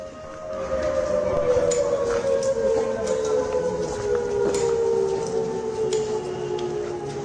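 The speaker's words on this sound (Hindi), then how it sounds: "ये सायरन की आवाज जो इस वक्त जम्मू में सुनाई दे रही है।" Air raid siren sounding in Jammu during an attack, a long, wavering, slowly falling wail heard from a distance throughout, with faint background noise.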